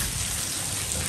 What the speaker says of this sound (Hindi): अभी जो है बार बड़ी तेज बारिश हो रही है